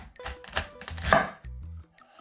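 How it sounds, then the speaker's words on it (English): Knife slicing a head of cauliflower in half, a few close crunching cuts followed by a dull thud on the board, brief and clear without talk. "To start off, you want to take your cauliflower and just cut it right down the middle."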